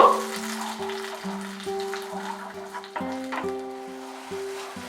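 Dried chili and tomato paste sizzling in a pan while being stirred, a steady frying hiss with scraping stir strokes and a sustained tonal hum running underneath, close and fairly loud.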